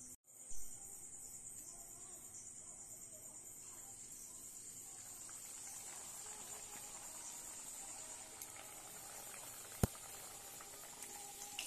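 Kachori frying in hot oil, a faint, steady bubbling hiss that runs continuously at close range, broken by a soft knock at the start and a sharp tick later.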